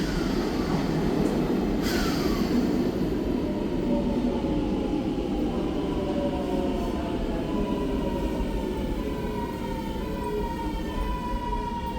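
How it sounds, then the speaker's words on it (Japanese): Constant rumble of a subway train in motion in Milan, with rising and falling whine of the motors and wheels throughout, no talking. "また地下鉄に乗ってアパートへ戻ります。"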